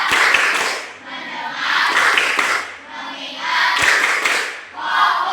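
A group of people claps in unison on a spoken count during a classroom teaching session, four loud bursts of rhythmic clapping arriving at roughly even intervals, with some voices mixed in.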